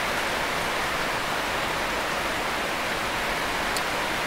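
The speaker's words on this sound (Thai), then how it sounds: "มาเบิ่งบรรยากาศฝนตกอยู่บ้านผม" Rain falls outside a house in Nong Ruea district, Khon Kaen, a dense, even hiss of drops that holds unbroken throughout with no voices.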